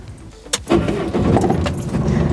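An old truck starting up: keys jangle briefly, then the starter catches and the engine settles into a loud, rough, close idle that continues to the end.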